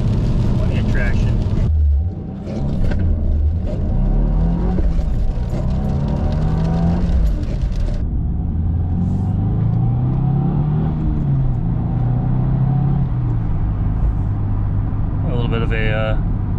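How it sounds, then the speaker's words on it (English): A 2022 Subaru WRX accelerates in the rain, its engine note rising steadily as revs climb, with a brief exhaust pop near the start and steady road and cabin rumble throughout. "Bit of a exhaust pop there"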